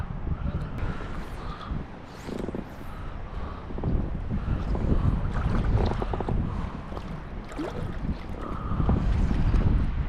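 Gusting wind buffets the microphone out on Cleawox Lake in Florence, Oregon, during a fly fishing outing, a steady low rumble rising and falling in waves throughout, with faint water lapping underneath and no voices.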